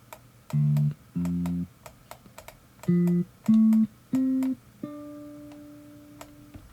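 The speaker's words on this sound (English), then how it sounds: "is an electric bass amp simulator and an upright bass simulator" Short low, synthetic-sounding electric bass notes through an amp simulator plugin, played one after another, with a final note held and slowly fading; no talking.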